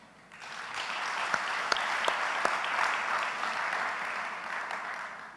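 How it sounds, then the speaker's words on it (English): An audience applauds at the SanlamAllianz launch dinner on 26 November 2025, a steady wash of many hands clapping with a few sharper individual claps. It rises quickly and holds evenly throughout, with no voices on top. "Please join me in a round of applause for everybody who contributed to today's success."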